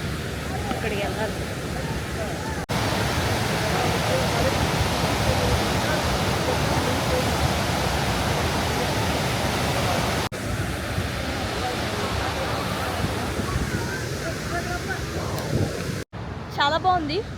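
Pykara waterfall in Ooty pouring steadily, a broad, dense roar of rushing water that fills the space evenly, loud and continuous with a few brief cuts.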